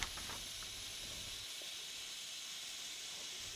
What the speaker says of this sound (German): Jetzt steht unsere 94 1538 nach ihrer Stilllegung 2011 erstmals wieder unter Dampf.